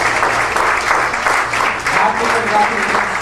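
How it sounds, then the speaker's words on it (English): An audience at a moot court event breaks into sustained applause, dense clapping from many hands that continues throughout with a voice faintly beneath it. "A huge round of applause, ladies and gentlemen."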